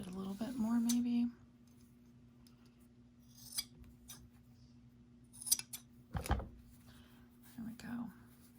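Scissors trimming fabric at the sewn seam of a shopping bag's sidewalls, a few soft close snips and clicks amid quiet handling, with a low hum throughout.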